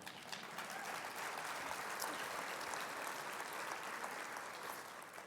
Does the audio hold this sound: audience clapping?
yes